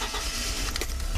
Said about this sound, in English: So start up the engine